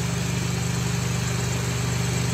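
Carbureted Honda Civic engine idling, a close, steady low rumble with an even, quick pulsing rhythm and no voices.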